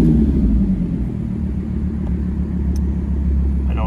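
Audi R8 V10 Spyder engine, a loud, steady low rumble, close by and unbroken, with a brief rise in pitch near the end.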